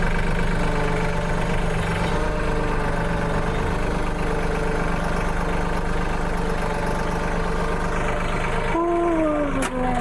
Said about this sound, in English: You need the backhoe for sure.